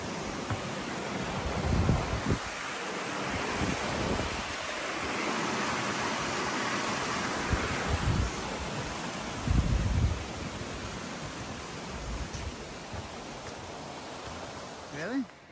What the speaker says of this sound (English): You can hear where the falls are, but there's too much foliage.